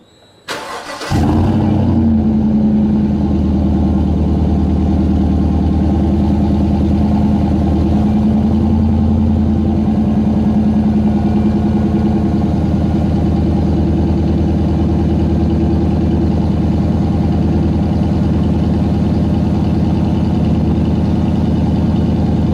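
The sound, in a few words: Chevrolet Silverado 5.3 truck cold start with Borla S-Type exhaust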